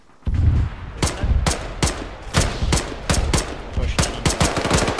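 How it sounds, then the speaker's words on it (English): Bursts of rapid gunfire in Arma 3 crack out in uneven clusters, sharp and loud, with short gaps between volleys and no talking. "Active gunfire from the next zone, be careful."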